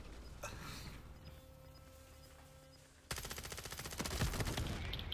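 A teammate's rapid machine-gun fire in Call of Duty Warzone bursts in suddenly after a quieter stretch, a fast, loud, continuous volley close by.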